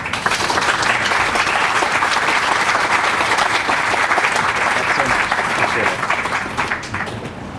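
Sustained applause from a lecture audience greeting a speaker on Braddock's Defeat, dense steady clapping filling the room for about six seconds before tapering off.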